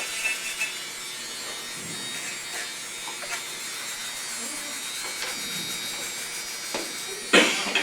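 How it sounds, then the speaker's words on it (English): A wooden pendant is hand sanded with coarse sandpaper, making a soft, continuous rasping scrape that rises and falls with the strokes. A sharper scuff comes near the end. "Just sanding, and then when you get it down, then you can go to a less coarse grit, a finer grit."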